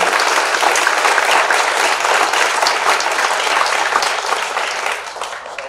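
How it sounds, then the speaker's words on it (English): Sustained, dense audience applause for State Treasurer Deborah B. Goldberg and her team at a government affairs forum, loud and steady for several seconds before easing slightly at the end. "let's give the treasurer and her team a round of applause"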